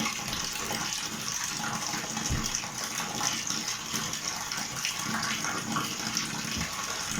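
Detergent is stirred by hand into water in the tub of an AQUA Japan twin-tub washing machine, giving a steady, close churning and sloshing of water with no pause.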